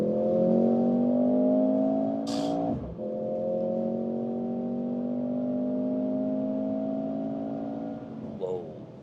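A Mercedes-AMG GLC 43 in Sport Plus mode pulls hard, its engine note rising steadily through a gear, with a brief shift break and then a continued climbing drone heard from inside.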